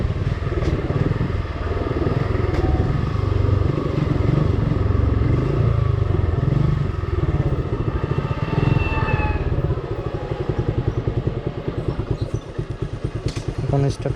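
Suzuki Gixxer motorcycle engine idling steadily and close by, a continuous loud rumble with a faint rev partway through, while someone talks over it.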